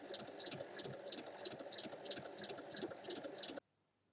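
A sewing machine runs a long topstitch seam along a fabric bag, giving a close, steady, rhythmic ticking stitch pattern for several seconds before stopping into quiet.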